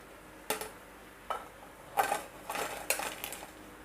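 Fried shakarpara being lifted from the pan onto a plate, with several sharp metal clinks and scrapes of utensils against dishes in irregular bursts, close and fairly loud with no talk.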